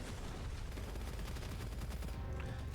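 SMG fire in the shooter game Gunfire Reborn comes as dense, continuous rapid bursts that run unbroken for a few seconds, moderately loud, with no talking.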